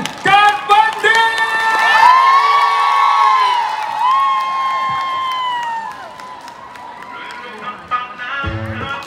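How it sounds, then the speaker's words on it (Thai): A live concert crowd at a Central Westgate fair in Nonthaburi cheers, whoops and shouts loudly and steadily to welcome a performer, with a sustained roar and scattered applause for most of the time. "ขอเสียงปรบมือต้อนรับ"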